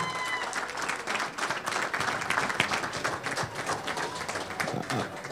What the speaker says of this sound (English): So big round of applause for everyone here.